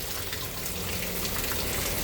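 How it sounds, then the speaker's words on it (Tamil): Heavy rain pouring in Sri Lanka, a dense, constant rushing wash of water that holds steady and moderately loud throughout, with no voices. "மழை வருது மழை வருது"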